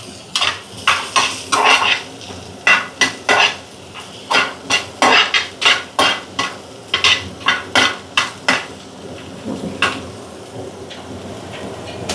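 Baby corn fries in a pan while being tossed and stirred, with repeated rhythmic clanks and scrapes of a utensil against the pan over a light background sizzle, close and fairly loud, without speech.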